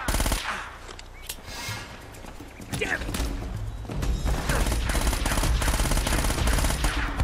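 A machine gun fires in sustained, rapid automatic bursts in Uncharted: Drake's Fortune, loud and close, over game music and ambience.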